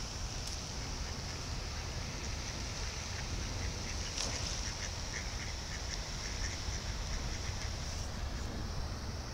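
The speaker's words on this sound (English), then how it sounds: "And just now I fed some more ducks." Ducks being fed bread quack outdoors, their calls fairly faint and scattered over a steady background hiss.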